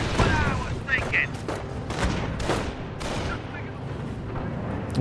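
Tank cannon and artillery fire from the World War II strategy game Company of Heroes, a dense run of booming blasts and sharp reports across the whole stretch, with a voice talking over parts of the battle.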